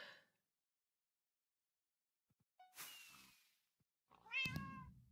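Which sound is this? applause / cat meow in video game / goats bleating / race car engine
cat meow in video game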